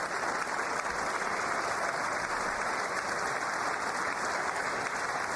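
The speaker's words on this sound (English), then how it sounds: "The brainwashers are applauding." An audience applauds during the State of the Union address, a dense, steady wash of clapping that holds evenly from start to finish with no voices above it.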